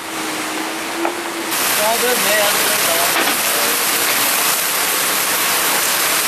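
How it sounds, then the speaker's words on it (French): Heavy rain pours down onto a racing sailing boat at sea, a dense, loud, steady roar of drumming water that swells after a quieter start. "C'est le déluge ici."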